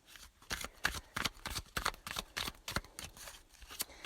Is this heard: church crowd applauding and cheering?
no